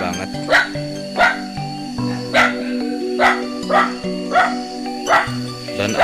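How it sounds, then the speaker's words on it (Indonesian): A dog in a hillside village barks in a steady rhythm of about eight sharp barks, evenly spaced over a continuous tonal background drone. "ada guk-guk di sini ya yang menggonggong"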